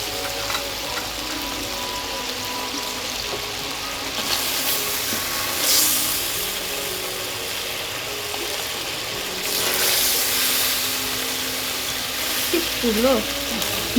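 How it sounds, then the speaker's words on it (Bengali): Chicken fries in a pan for a sour-spicy raw mango curry, giving a steady sizzle with stirring scrapes and clatter of the meat being lifted out, and brief muffled voices in the background. "ভাজা মাংস আলাদা পাত্রে নামিয়ে রাখা হচ্ছে পরে তরকারিতে দেয়া হবে"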